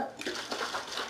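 Water pours from a sink tap in a steady, close, hissing stream with faint splashing.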